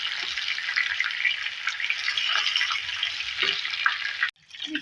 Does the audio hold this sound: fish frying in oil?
yes